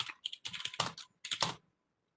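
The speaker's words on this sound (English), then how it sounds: "if I can type today" Quick, irregular keystrokes on a computer keyboard, close and fairly soft, in clustered bursts with a short pause before a final tap.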